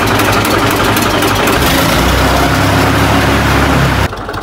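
A tractor engine runs close by with a loud, steady, low rumbling drone that stops abruptly just before the end, with no speech over it.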